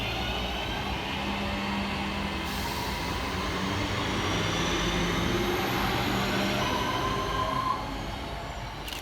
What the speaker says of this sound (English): kicking us off we see departure of 323-234 working 1320 Northern service from Crewe through to Manchester Piccadilly.